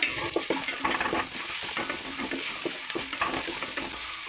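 Coconut pieces fry in oil in a pan for Kerala-style pork curry. The close sizzle is steady, with repeated stirring scrapes and light clinks from a utensil, and no one speaks.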